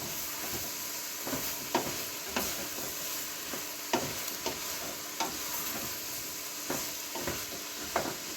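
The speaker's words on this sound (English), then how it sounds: "I'm going to stir this again." Broccoli soup with vegetables and salt stirred in a pot, a spoon scraping and knocking in irregular close strokes over a steady low hiss, with no talking.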